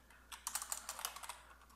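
A computer keyboard clicks as a command is typed, a quick run of about a dozen light, close keystrokes in an otherwise quiet room.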